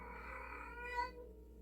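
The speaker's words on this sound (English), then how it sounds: "Sorry for the loud cat sounds." A drawn-out, low-level cat meow with a wavering tone that swells briefly near the end and trails off.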